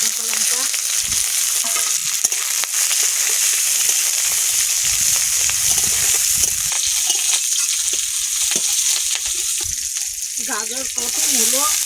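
Dried chillies, onion and garlic fry in hot oil with five-spice seeds, a dense, continuous sizzle with occasional stirring scrapes and small crackles, close and steady throughout.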